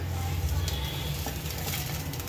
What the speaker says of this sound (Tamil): இவ்வளோ எண்ணெயை வச்சு இந்த வாழை இலையை போட்டுக்கணும்.